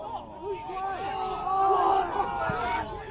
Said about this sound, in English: Crowd not happy.